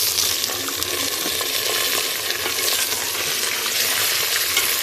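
Chicken pieces hit a pan of browning onions and fry with a loud, steady sizzle, with stirring scrapes throughout and no talking.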